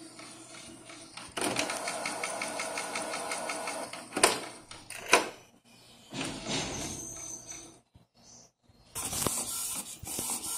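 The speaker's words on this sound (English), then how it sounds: "this does make a lot of noise" A Canon Pixma IP1300 inkjet printer prints in colour, its carriage whirring in steady rhythmic passes with loud clunks and paper-feed thumps between bursts, close and fairly loud.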